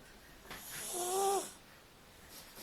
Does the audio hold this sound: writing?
no